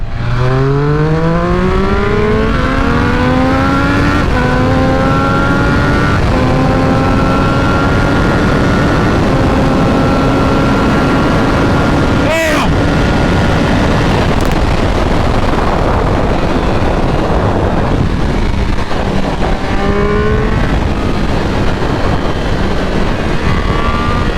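A 2022 Triumph Speed Triple 1200 motorcycle with an ECU flash tune accelerates hard from 60 to 130 mph, starting in second gear. The loud, continuous engine note climbs steadily, with several gear changes and a brief wind buffet partway through, and no talking.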